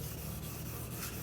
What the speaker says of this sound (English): using my 1500 grit sandpaper and just sanding that down